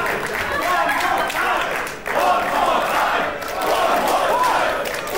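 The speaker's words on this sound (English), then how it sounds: "the crowd is enjoying this display of violence" A wrestling crowd roars and cheers loudly in sustained waves, with shouts and clapping in a big arena, briefly dipping before surging again.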